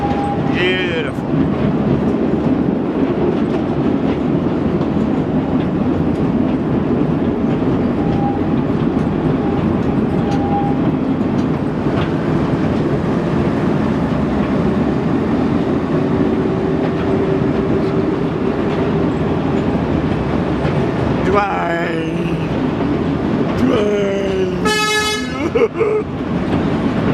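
A train rolls past at the Botanical Gardens in Bundaberg, Queensland, with steady rumbling rail noise throughout, and a horn toots a couple of times near the end.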